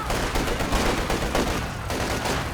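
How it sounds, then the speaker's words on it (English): A mortar barrage in Company of Heroes 2 during a 2v2 match, heard as a dense, continuous roll of gunfire and explosions, loud and close. "mortar barraging out the back first"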